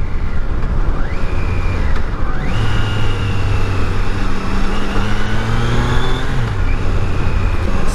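A 2024 Triumph Tiger Sport 660 motorcycle being ridden, loud wind-buffeted engine noise with rising and falling revs through several gear changes, close and continuous.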